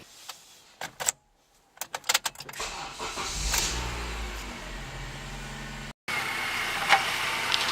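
A Honda Civic being moved outside from a garage during a rebuild: scattered clunks and knocks, then an engine cranks and settles into a steady mid-pitched running drone, cut off briefly before resuming, heard fairly close.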